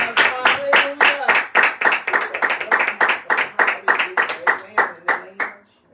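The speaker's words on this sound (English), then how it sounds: "let's give the Lord a hand clap of praise" A church congregation claps in praise, with a steady, rhythmic beat of many hands in unison, loud and close, repeating about three to four times per second while voices sing or call out beneath it.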